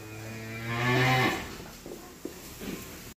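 Cattle in the main barn of a farm raising bulls for sacrifice, one long, deep moo swelling and fading over about a second, followed by quieter shuffling and barn noises nearby.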